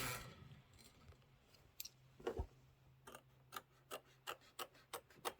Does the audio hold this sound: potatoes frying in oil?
no